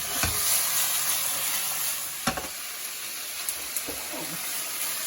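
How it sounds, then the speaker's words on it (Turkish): Steady crackling sizzle of zucchini sautéing with garlic in a hot pan, with a few sharp utensil clinks and stirring scrapes; no talking. "Kabaklar sotelenirken de doğranmış şöyle 2-3 diş sarımsak ilave ettim."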